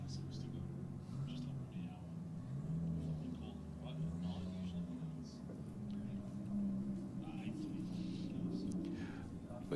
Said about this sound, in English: We got the BMW down in the Aeroflow lane up against this real trick-looking VL Commodore